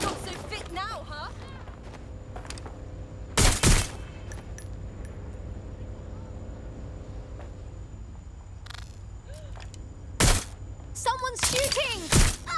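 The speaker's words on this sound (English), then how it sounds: "Someone's shooting!" Gunfire in Watch Dogs: Legion, a few short loud bursts of rapid shots spread across the stretch over a low ambient hum, with faint voices and scattered sounds in between.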